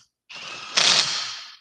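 A spark plug is screwed in by hand, giving a brief, close ratcheting and threading whir that swells midway and then tapers off.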